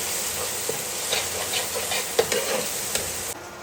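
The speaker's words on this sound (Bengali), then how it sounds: "হলুদ পাউডার, ভালোভাবে কষে নেব।" Chicken being fried with turmeric powder in a pan crackles with a dense, steady sizzle close by, punctuated by light scrapes and knocks of stirring.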